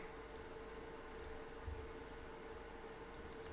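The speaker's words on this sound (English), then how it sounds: "I don't know why my mouse keeps clicking so much." Sparse, faint clicks of a computer mouse at irregular intervals over a steady low hum, close by and without talking.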